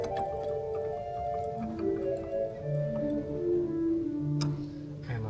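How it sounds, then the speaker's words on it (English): Pipe organ four-foot flute stop in a large Austrian church organ, soft sustained pure tones stepping through a slow melodic line, with faint mechanical clicks and a quiet room background. "Four-foot flute."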